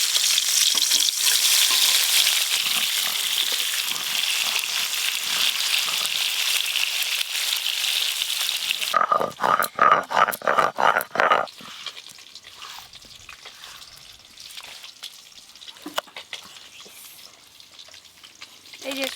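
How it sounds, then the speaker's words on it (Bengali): Small Asian fish (bok mach) frying in hot oil in a pan, a dense steady sizzle that runs for about nine seconds, then stirring clatter and softer scattered crackles. "এই যে সব মাছ ভাজা হয়ে গেল"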